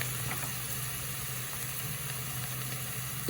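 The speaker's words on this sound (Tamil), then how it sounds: "பொன்னிறமாக வர்ற வரைக்கும் ஒரு கொஞ்சம் வதக்கி எடுவோம்." Garlic and vegetables sauté in a pan with salt and coconut for a vegetable fried rice, giving a steady, close sizzle with a low hum underneath and no voices.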